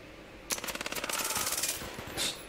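Automatic weapon fire in the VR shooter Zero Caliber, a single sustained burst of quick, close shots that starts abruptly and trails off, with a faint later thump.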